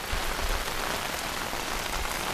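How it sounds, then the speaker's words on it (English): Steady heavy rain drums on a tent and tarp at an overnight campsite, a dense close patter with no voices. "So it started raining a little bit earlier than I thought"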